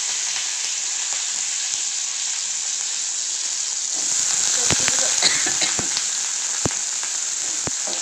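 Vegetables (potato, egg, carrot) frying in a hot pan for pulao, a steady loud sizzle that swells as they are added, with sharp utensil scrapes and taps against the pan.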